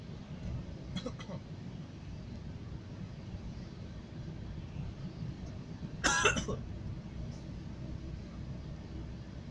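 A single short cough bursts out partway through, close to the microphone, over a steady low rumble of traffic at a car fueling stop in the United States, with a fainter throaty sound earlier.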